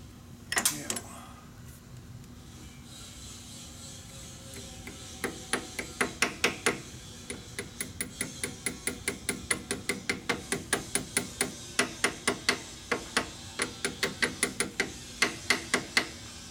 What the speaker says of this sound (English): sometimes you actually need a hammer